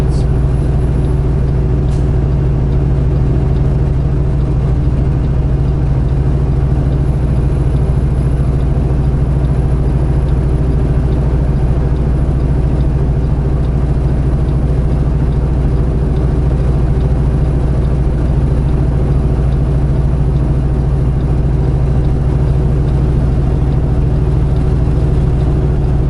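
A semi truck's diesel engine drones loud and steady while pulling uphill in 7th gear, a deep continuous rumble that holds without break for nearly half a minute.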